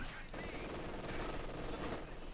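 An MG42 machine gun fires in Company of Heroes 2, a steady, dense rattle of automatic fire that runs through the whole moment amid battlefield noise.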